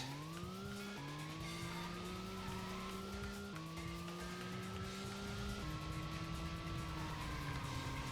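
Sustained tire squeal from a car sliding under heavy handbrake in a racing video game, several long rising screeches that break and restart over steady engine noise, loud and close throughout.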